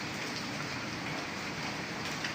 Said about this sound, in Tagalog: Ayan, maulang umaga sa atin